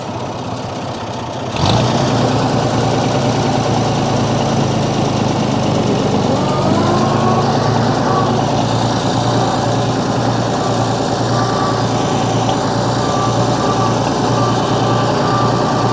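A 1940 Oliver 70 Row Crop tractor engine, recovered after three years buried in a barn, starts up and runs steadily and loudly close by, with a continuous low rumble and no talking.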